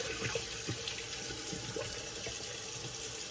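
Tap water runs steadily into a sink while a shaving brush is rinsed under it, a close, continuous splashing flow with small irregular spatters throughout and no talking.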